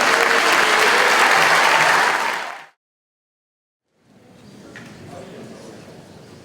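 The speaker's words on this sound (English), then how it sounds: "Round of applause for Jake" Loud crowd applause at a middle school jazz concert for a performer, a dense burst of clapping that cuts off abruptly into silence, then returns quieter and more distant.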